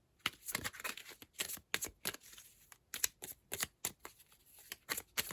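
Tarot cards being handled and shuffled close up, a rapid irregular series of crisp riffling and slapping bursts with brief pauses between, no voices.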